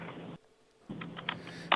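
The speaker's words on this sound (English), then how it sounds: "I hear somebody typing." Quiet keyboard typing, a short run of key clicks, a brief pause, then several more taps with a couple of sharper keystrokes near the end.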